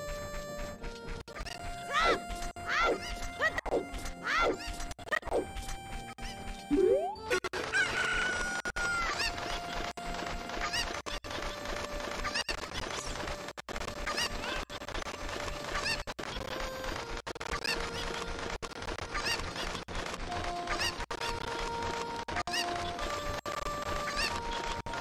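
Cucco chickens in the video game Ocarina of Time give loud, sharp fowl cries and clucks during the opening seconds. The game's busy music and sound effects then take over for the rest of the stretch.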